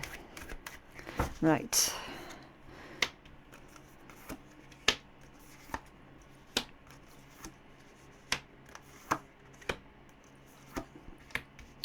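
A quick riffle of shuffled tarot cards, then a slow series of crisp single taps and snaps as cards are handled, with a brief spoken word.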